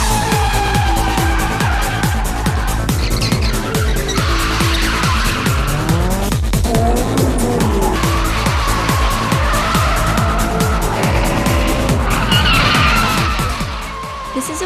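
Street racing cars skid and squeal their tires nonstop in a warehouse district at Osaka port, engines revving loudly and close throughout, with overlapping screeches and rising and falling motor roar.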